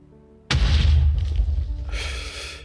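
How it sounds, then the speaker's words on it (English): A catapult's high explosive shot bursts in the Ancient Warfare mod for a video game, a sudden loud boom followed by a rumbling, crackling decay and a second hissing burst of debris. "you can go in with a high explosive shot and drop it down, maybe there."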